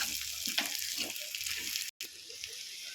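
Prawns frying in a pan give off a steady, close sizzle and crackle with a constant hiss. The sound cuts out briefly near the middle, then resumes.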